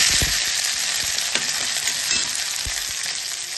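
Mustard seeds, chana dal, urad dal, onion and green chili fry in hot oil for lemon sevai, a steady close sizzle with brief stirring knocks and no voices.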